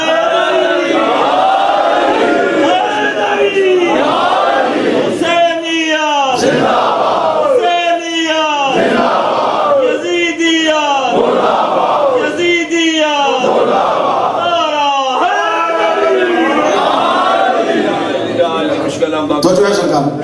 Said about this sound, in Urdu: نعرہ تکبیر, نعرہ رسالت, نعرہ رسالت